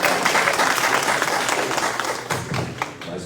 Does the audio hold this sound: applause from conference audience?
yes